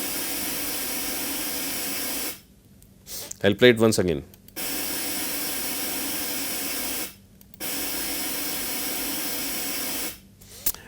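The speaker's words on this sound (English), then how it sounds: "So, this is white noise." Steady broadband hiss of white noise in long stretches, cutting off briefly while someone speaks in the gap.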